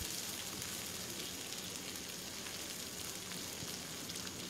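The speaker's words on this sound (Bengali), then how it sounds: "সুন্দরভাবে পানি শুকিয়ে ভাজা ভাজা হয়ে এসেছে।" Chicken do pyaza fries in a pan with its water cooked off, giving a steady, dense sizzle that holds evenly throughout with no voices.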